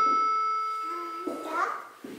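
A doorbell rings in a home, a sustained electronic chime tone holding for over a second before fading, followed by a voice nearby.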